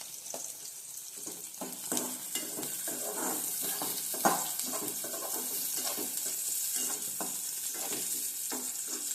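Chopped onion sizzles and fries in a pan while being stirred, a continuous close crackle with scraping strokes and light clinks, no voices.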